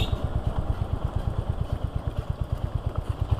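A Royal Enfield Hunter 350 motorcycle rides along with its single-cylinder engine thumping in a fast, regular pulse, loud and close, under wind noise and with no talking.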